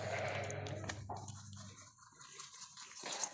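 Arashan breed ewes and their lambs bleating, with one strong bleat at the start and fainter calls after, close by and with no talk.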